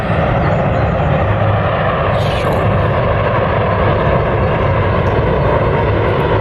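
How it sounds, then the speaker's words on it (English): A steady, loud roar of a passing aircraft fills the whole stretch, constant broadband rumble without pauses. "always in the skies around Horton"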